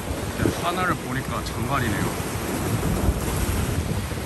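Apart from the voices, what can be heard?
water sounds by the waterfront at Canary Wharf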